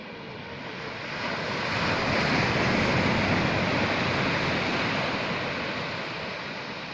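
Steady roar of surf breaking on the white-sand Lampuuk beach in Aceh, swelling in the middle and easing toward the end, with no voices.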